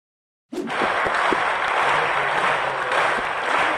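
Sustained applause from MPs and officials in the Verkhovna Rada chamber as the European Union flag is carried in; a thick, steady roar of clapping begins abruptly after a short silence and holds evenly to the end.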